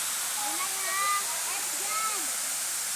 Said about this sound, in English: this waterfall is located in Balilihan